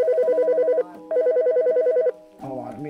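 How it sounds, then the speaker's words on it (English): A telephone rings in the GTA 5 video game, two bursts of warbling electronic trills with a short gap between them, loud and close, followed by a brief muffled shuffle as the call is picked up. "Let me answer this phone."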